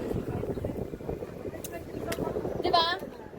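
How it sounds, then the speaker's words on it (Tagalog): Strong wind at the seaside in Split, Croatia, a faint, steady rush of wind buffeting the microphone beneath people talking. "lakas ng hangin guys"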